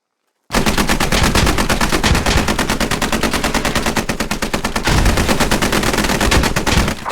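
Sustained automatic gunfire from a live fire exercise in the video game Squad: loud, rapid, evenly spaced bursts fire continuously for nearly seven seconds after an abrupt start, with no talk.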